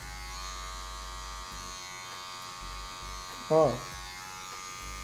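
Electric hair clippers buzz steadily while fading hair in a barbershop-style haircut lesson. The hum is close and continuous, and a brief spoken interjection rises over it near the end.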